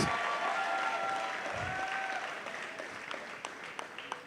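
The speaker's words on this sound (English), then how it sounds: "can you please give my brother a massive round of applause" Audience at a stage play event clapping in a sustained round of applause, dense and steady at first then thinning toward scattered claps.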